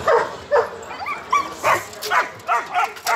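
Puppies, including German shepherd and golden retriever pups, yip and bark in short repeated bursts at a Friday dog market, about eight sharp high calls spaced across a few seconds, fairly close.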